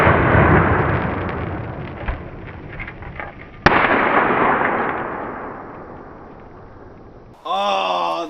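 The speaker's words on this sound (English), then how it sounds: "We're actually still waiting for this round to grenade" A .50 BMG round cooks off in a fire with a loud sharp crack, followed later by a second sudden bang, then a long fading rumble. A voice comes in briefly at the end.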